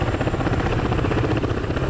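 Continuous helicopter rotor thrum and engine drone in DCS, likely a Ka-50 Kamov, a dense steady pulsing roar filling the cockpit without talking.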